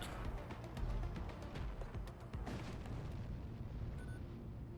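Cannon fire in the sci-fi space combat game Void War: a rapid series of heavy, booming blasts and bursts rolling together, loud and dense, with no voices over them.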